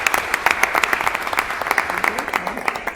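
Meeting attendees at a school board session give a round of applause, a steady wash of many hands clapping with scattered sharper claps over a dense bed of noise, continuing throughout at moderate loudness.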